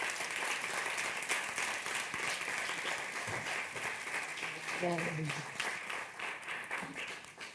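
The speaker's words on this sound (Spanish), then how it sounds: "Un fuerte aplauso, por favor." Applause from an event audience for a team member being introduced, a steady wash of clapping sustained throughout, with a brief voice murmuring in the middle.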